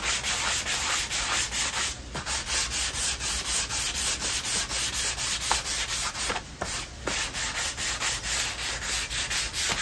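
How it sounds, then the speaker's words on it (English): Sandpaper rubs along the grain of a wooden guitar body in steady back-and-forth strokes, a close, rhythmic scratchy swish repeating roughly once a second. "We want to sand with the grain, always."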